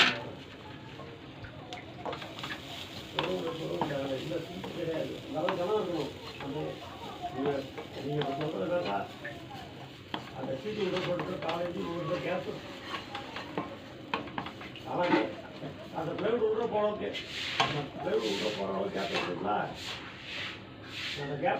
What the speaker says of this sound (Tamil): இப்போ தேங்காய் போட்டு வதக்கிக்க போகிறோம்.